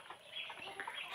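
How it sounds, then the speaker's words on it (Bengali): Native deshi chickens on a small farm giving a few soft, faint clucks in quick succession, heard at a distance with no talk. "এগুলা হচ্ছে একদম পিওর দেশি মুরগি"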